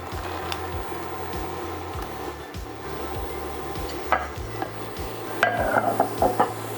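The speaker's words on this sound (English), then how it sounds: "Our olive oil looks nice and hot now, and I'm going to go ahead and add those chickpeas to it" Chickpeas sizzle in hot olive oil in a skillet, a steady close frying crackle broken by scraping stirs and occasional sharper pops and clinks toward the end.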